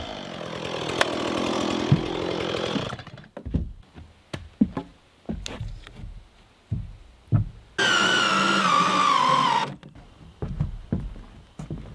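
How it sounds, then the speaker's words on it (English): A Makita electric plug-in chainsaw cuts through wood in two loud whining bursts, separated by a run of sharp knocks and thuds from handling the timber nearby. "I'm gonna be using a chainsaw"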